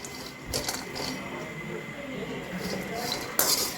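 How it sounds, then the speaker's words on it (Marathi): Peanuts being dry-roasted and stirred in a kadhai for peanut katli, with soft clinks and scrapes of a spoon against the metal pan and a sharper clatter near the end. Everything stays fairly quiet. "कढाईमध्ये शेंगदाणे घालूया."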